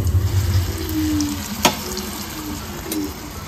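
Food frying in a pan is flipped over, giving a steady sizzle with a sharp clatter in the middle and a softer scrape near the end, close up with no voices.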